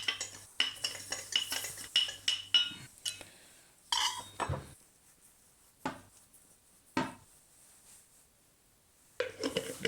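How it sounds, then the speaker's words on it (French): Mussels being stirred in a pot while they steam open: irregular metallic clinks and scraping clatters of a utensil against the pot, in bursts separated by quiet pauses, close and moderately loud. "on va le laisser au chaud et on va remuer assez régulièrement jusqu'à ce que toutes les moules s'ouvrent"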